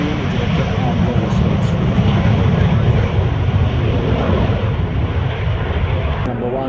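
Aircraft at the Coventry air show raising undercarriage and flaps, a loud steady engine roar filling the whole stretch, with wind buffeting and a voice talking faintly beneath.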